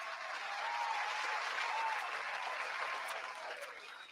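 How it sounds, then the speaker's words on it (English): Steady round of applause from a crowd of listeners, a dense continuous patter of many hands at moderate distance, swelling slightly then tapering off at the end. "I just want to give everybody a round of applause."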